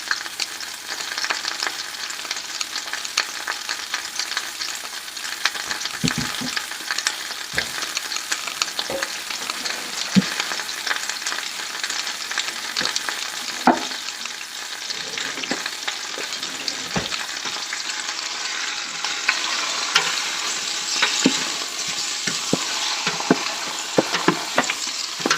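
Chicken browning in a pot for homemade soup, a steady close sizzle and frying hiss with occasional soft knocks and stirring clatter throughout, no voices.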